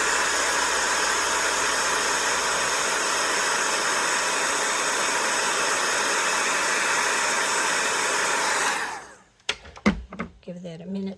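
Craft heat tool blowing hot air over a Versamark-stamped card for embossing, a loud steady roaring hiss for about nine seconds that cuts off, then a few brief handling clicks.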